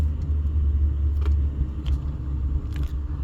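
A car rolls slowly through a small desert community near Las Vegas, its steady low engine and road rumble heard from inside the cabin, continuous and fairly loud with faint ticks above.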